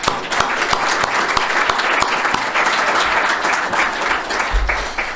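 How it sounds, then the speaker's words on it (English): A large crowd applauds steadily, loud and sustained clapping with no pause. "So big round of applause for everybody that put this on."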